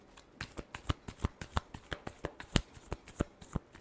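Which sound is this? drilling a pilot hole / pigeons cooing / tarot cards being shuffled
tarot cards being shuffled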